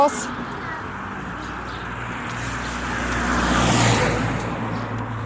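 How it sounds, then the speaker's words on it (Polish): Cars drive along a road, a continuous engine rumble swelling as one passes close, with people talking over it throughout. "bo tu auta jeżdżą"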